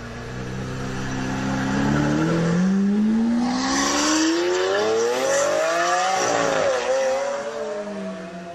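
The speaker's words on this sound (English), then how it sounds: "the sound of like a Lamborghini revving" A Lamborghini sports car engine revs, its pitch climbing steadily through the gears into a loud, rising roar, then dipping and settling back, close and continuous throughout.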